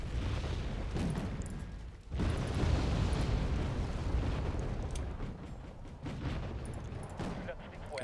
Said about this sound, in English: See if these mortars can deal with the infantry that they have firing at these Highlanders.